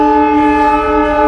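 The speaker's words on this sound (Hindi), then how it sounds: "आपको रेल की आवाज आ रही होगी, इधर सब पास में रेलवे लाइन है" A train on a nearby railway line sounds a loud, steady horn-like tone with strong sustained harmonics, holding continuously throughout without voices.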